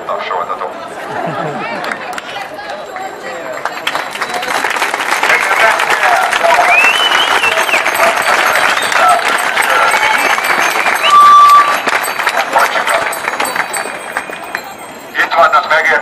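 Sustained applause from a crowd at a Critical Mass bike rally in Debrecen, a dense steady clatter of clapping that swells and holds, with voices mixed into the noise throughout.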